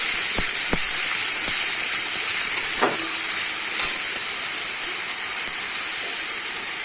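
Onion sizzles loudly and steadily in hot oil with ginger garlic paste, a constant frying hiss broken by the occasional scrape and tap of a spoon stirring in the pan.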